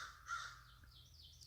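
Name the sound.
crows cawing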